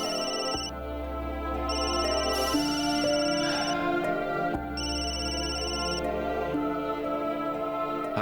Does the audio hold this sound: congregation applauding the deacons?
no